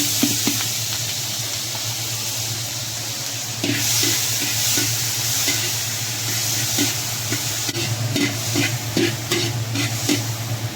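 Tomato, onion, chili and garlic are sautéed together in a hot pan for sinigang. The oil sizzles steadily throughout, with a rhythmic series of spatula scrapes and stirring knocks in the latter half.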